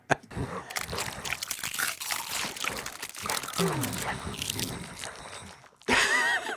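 Sound effect of a zombie eating crunchy deep-fried finger bites, with crackling crunches, wet squelches and gnawing layered in a busy stretch that fades, then a short louder burst of crunching at the end.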